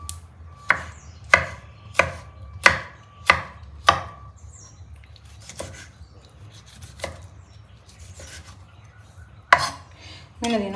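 A knife chops onions on a board in sharp, evenly spaced strikes, about six in quick succession, then a few scattered cuts after a quieter pause, close and crisp with no talking.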